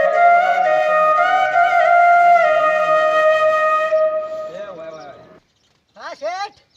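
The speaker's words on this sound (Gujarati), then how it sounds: "હારો મોરલી નો અવાજ આવે છે." A snake charmer's pungi (morli) plays a loud, steady reedy drone with a wavering melody for about four seconds, then fades out. After a brief silence, short voiced sounds follow.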